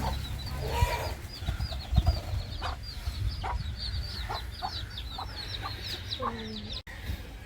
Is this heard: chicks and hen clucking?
yes